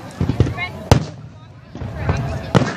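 Canada Day fireworks bursting outdoors, several sharp cracks and pops at a moderate distance with the loudest near the start and end, heard under people chatting.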